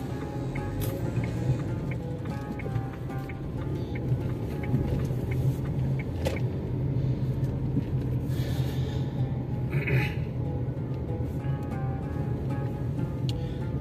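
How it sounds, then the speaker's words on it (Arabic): Heavy night-time car traffic on Allal El Fassi avenue near Marjane in Marrakech: a constant low engine rumble and road noise, with occasional passing vehicles swelling briefly above the steady drone. "غيبان لكم من ترافيك ديال الطوموبيلات كثير"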